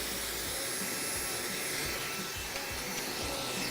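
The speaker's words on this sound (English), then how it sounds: "Right now I'm really just trying to dry in the roots towards the top." A hair dryer blows steadily close by while drying the roots of a man's hair at a barber's, a loud continuous whooshing roar with slight rubbing texture and no talk.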